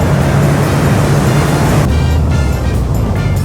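A Suzuki GSX-S motorcycle rides along a scenic road, its steady engine drone and heavy wind rush continuous and loud, with a slight shift in tone as the bike slows for a bend.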